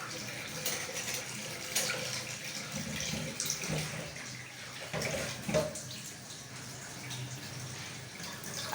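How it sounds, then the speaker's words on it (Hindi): A kitchen tap runs steadily into a sink while dishes are washed. The water makes a faint, continuous hiss and splash with a few small clinks, and a quiet voice speaks intermittently underneath it. "मैं बर्तन धो रही हूँ"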